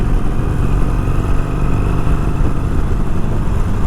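A Harley-Davidson Sportster 883 motorcycle engine thrums steadily while being ridden, a loud, continuous low rumble mixed with wind noise and no speech.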